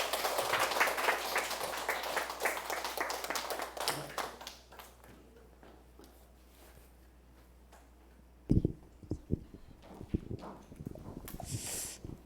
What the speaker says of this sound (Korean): 멋진 6월을 화이팅 해주신 고수명 스포님께 다시 한번 큰 박수 부탁드립니다